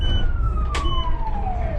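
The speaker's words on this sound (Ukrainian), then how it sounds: "Швидка допомога." An ambulance siren wails past a city bus on route 24, a steady tone gliding slowly downward as the vehicle passes, loud over the constant rumble of the bus interior.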